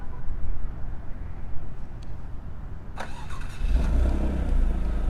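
A 2019 Alfa Romeo Giulia Quadrifoglio starts by key-fob remote start: a quiet wait, a sharp starter whir and catch, then the engine settles into a loud, steady idle rumble.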